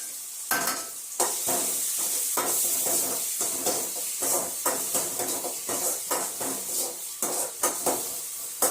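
Mustard seeds and cumin sizzle steadily in hot oil, a close, continuous hiss broken by repeated clinks and scrapes from stirring in the pan.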